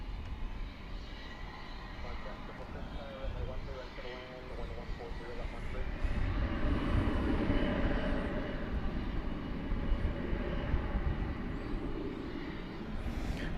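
An airliner departs from runway 18 Left at DFW Airport at night, a broad, steady engine roar building and holding throughout, heard from a distance with no talk over it.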